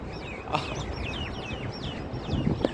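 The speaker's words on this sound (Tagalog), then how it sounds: "mga ibon nagwawala na rin, nag-aaway-aaway na sila" Birds squawking and chirping in a hot outdoor city-centre bazaar in Doha, a fairly loud stream of repeated sharp calls over steady background noise, with a couple of louder bursts near the end.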